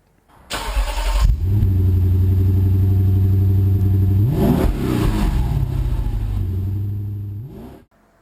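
A 2017 Hyundai Santa Fe Sport SE engine starts and settles into a steady, close mechanical drone as the SUV pulls away, with a brief rise in revs midway, no talking.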